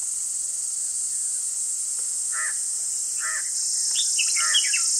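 A red-whiskered bulbul hidden among leaves in the Konkan gives a few short, bright whistled calls, moderately close, over a constant high insect drone, with a busier burst of notes near the end.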